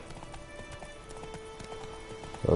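Horse hooves clip-clop at a steady riding pace in The Witcher 3 video game, a light, even rhythm of soft knocks over a quiet ambient background, with a louder thump at the very end.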